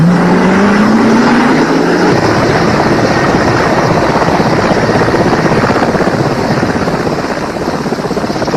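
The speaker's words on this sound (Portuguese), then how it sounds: "Agora é o helicóptero Colibri que levanta voo." A Colibri helicopter lifts off beside the Nile in East Africa with a loud, close, roaring turbine and rotor that rises in pitch at the start and then holds a steady, heavy drone throughout.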